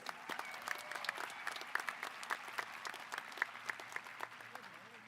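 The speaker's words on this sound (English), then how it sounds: "Let's give them a nice round of applause," Applause from a graduation ceremony audience at Reedley High School, a steady patter of many hands clapping at moderate distance, with faint crowd murmur beneath and a few sharper claps standing out.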